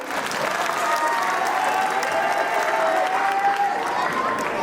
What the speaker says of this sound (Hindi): तालियां।